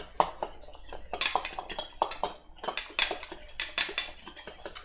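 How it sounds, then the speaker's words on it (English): Water and cornstarch whisked together in a container as a thickener for mapo tofu, making a quick, busy run of rhythmic metallic clinks and scrapes, close and fairly loud, with no voices. "So I just have some water and cornstarch here. And I'm gonna whisk that together."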